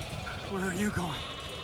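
Sheep in the video game The Alters give a few short wavering bleats near the middle of the clip, moderately loud over a low ambient game background.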